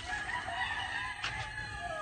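Chickens crow and cluck steadily in overlapping calls, moderately close, with no talking.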